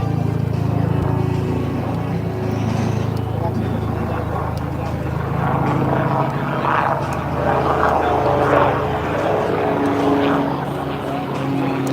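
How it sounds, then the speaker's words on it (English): A seaplane passes overhead at an outdoor theme park, its steady propeller drone rumbling low and continuous beneath nearby crowd chatter and people talking. "There's a seaplane above us."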